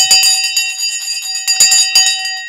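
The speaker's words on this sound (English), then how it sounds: "And today's bell is sponsored by Sensei Crypto in 5, 4, 3, 2, 1. The bell is now gone." A bell rings to open a live stock-market broadcast, several loud, bright metallic strikes in quick clusters with sustained ringing tones between them, heard alone.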